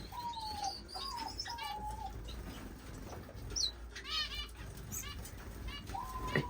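A male pet bird in an indoor bird room sings to his mate. The song is a string of chirps and whistled notes over soft background rustling, with a few wing flutters. No one talks.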